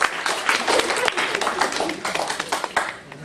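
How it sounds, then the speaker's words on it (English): An audience claps in a steady, dense round of applause, close and sustained, thinning out and fading near the end. "Let's give it a round of applause."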